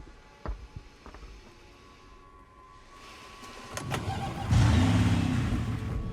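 A Porsche in the Resident Evil Requiem video game: a door clunk and a few clicks, then the engine starts up and settles into a loud, close rumbling idle.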